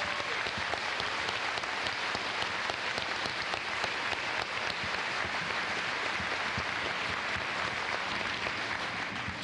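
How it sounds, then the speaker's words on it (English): A large audience at the 2008 Ste. Genevieve High School graduation ceremony gives a steady, unbroken round of applause, heard from a distance and fairly faint, with no voices standing out. "Could we please give these students and the businesses a round of applause?"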